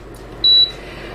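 An induction burner lets out a single short electronic beep as it switches on, clear and close in an otherwise quiet kitchen.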